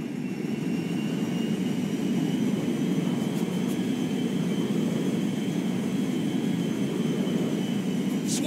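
Steady, loud jet-engine roar from a cargo jet flying in to land in Grand Theft Auto V, holding a constant drone throughout without speech.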